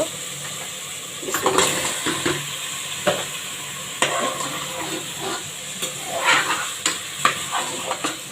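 Pangas fish goes into spiced masala in a pan and fries, with a busy sizzle and repeated scraping and clattering of a spatula stirring against the pan, loud and close.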